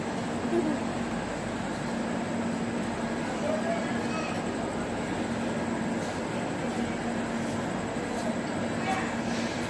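A passenger train runs at night with a constant loud rumble and rattle heard from inside the carriage, steady throughout without pause.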